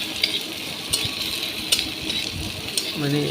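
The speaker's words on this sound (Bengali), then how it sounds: "এই যে আলু। ভালো করে ভেজে নিতে হবে" Potatoes fry in a pan with a continuous close sizzle, punctuated by several sharp clicks of a spatula scraping and stirring at irregular intervals, and a faint tonal tap near the end.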